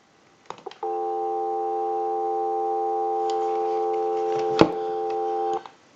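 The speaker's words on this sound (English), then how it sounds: "We'll go ahead and give you some dial tone." Steady dial tone from an Automatic Electric three-slot payphone under repair, a continuous hum of blended tones lasting about five seconds after a couple of clicks, with a sharp click near the end before it cuts off.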